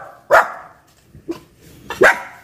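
A dog barks sharply three times at close range, two loud barks framing a softer one, with quiet surroundings between them.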